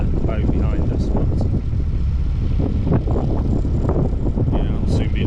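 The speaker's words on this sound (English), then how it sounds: "It's a super windy spot here." Strong gusty wind buffeting the microphone beside a canal lock with a narrowboat, a loud continuous roaring rush with shifting surges.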